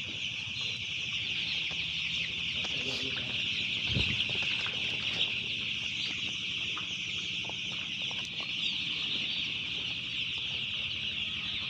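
Young chickens in a brooder cluck and cheep continuously at close range, with a brief flutter of wings, over a steady background hum.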